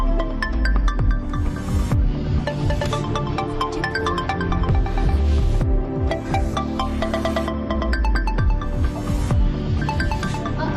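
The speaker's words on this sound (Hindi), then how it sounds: "वाजिद का फोन" A mobile phone ringtone plays a repeating melodic tune in regular bursts at steady volume, close to the listener, with no voices over it.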